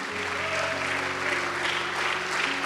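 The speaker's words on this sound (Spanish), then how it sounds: "Dele fuerte el aplauso al Señor." Church congregation applauds during a Spanish-language sermon, sustained crowd clapping as a continuous wash, with faint tonal sounds beneath, moderately quiet.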